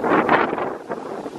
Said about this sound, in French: Franchement il y a du vent mon gars.